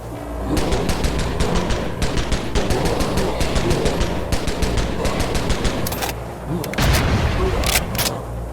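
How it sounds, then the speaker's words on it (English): Rapid automatic gunfire from an indie first-person shooter game demo rattles in dense, steady bursts of sharp shots, with louder cracks near the end and speech mixed in underneath. "What I didn't like, however, is how the guns sound, nor the animations on them."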